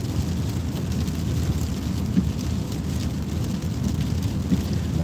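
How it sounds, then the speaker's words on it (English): Steady rain falls outdoors on a Saturday morning in Ohio, a constant low rushing wash with no breaks, fairly close and moderately loud, with no talk over it. "Saturday morning, a little rainy here in Ohio."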